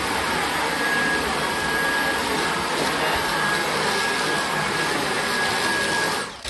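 A Dyson stick vacuum cleaner runs steadily with a loud, constant whirring motor whine and airflow hiss, sustained without break until it cuts off at the very end.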